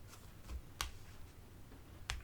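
Tarot cards are shuffled and turned over, giving a few sharp, quiet snaps and flicks spaced out over low room hum.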